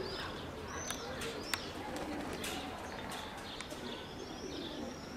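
Young pigeons coo softly near a dovecote while being trained to fly, with scattered chirps and faint wingbeats over a steady outdoor background.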